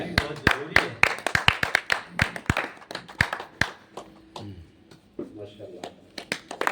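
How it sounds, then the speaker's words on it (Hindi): An audience at a mosque gathering claps in crisp, separate strikes that thin out over several seconds, with people talking underneath as the applause dies away. "जोरदार तालियों से जरूरत है"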